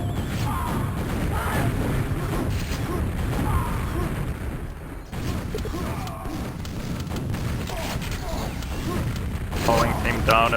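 Grenade explosions in the fast-paced shooter Quakeworld, sounding as repeated sharp bursts and booms over continuous game noise, with a voice talking over much of the action.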